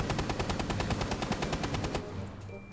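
Rapid automatic gunfire in Rainbow Six Siege, a rhythmic stream of evenly spaced shots for about two seconds before it cuts off and leaves a short quieter tail.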